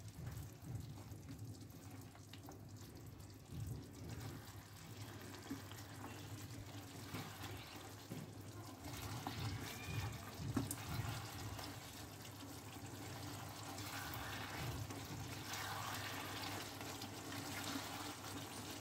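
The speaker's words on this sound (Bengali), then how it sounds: "এটা ধুয়ে আমি জল দিয়ে দেবো" Running water pours steadily into a bowl as ground poppy seed paste is rinsed and mixed, a continuous close splashing wash that carries on for the whole stretch with no voices.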